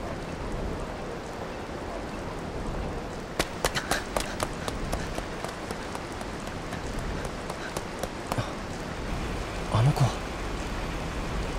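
Heavy rain from a typhoon in a PS2 video game, a dense steady hiss that fills the scene, with occasional faint thumps and taps breaking through the downpour.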